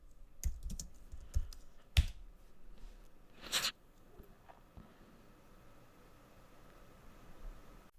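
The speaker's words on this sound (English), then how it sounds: "I'm just gonna type setup." Typing on a computer keyboard while entering a setup command, heard as a few sparse, close keystroke clicks in the opening seconds, with a near-silent room afterward and no talking.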